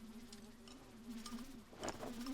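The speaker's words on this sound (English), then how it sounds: "There's a fly buzzing around." A housefly buzzing around indoors in winter, a thin steady whine that drifts and swells as it passes close, with a louder rush near the end.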